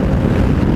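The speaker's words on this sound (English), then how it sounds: "It's either very windy today" Wind roaring over a pillion passenger on a moving motorbike, a loud close low buffeting rumble that holds steady through the short moment, with no voices.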